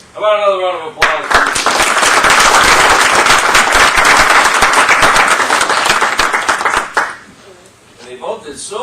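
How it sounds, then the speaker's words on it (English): Loud, sustained applause fills a town board meeting for about six seconds, dense clapping from a room full of people, with a voice speaking briefly before and after. "How about another round of applause?"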